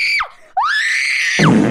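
A girl screams shrilly twice, loud and close, the second scream held longer before it drops off into a rough burst of noise.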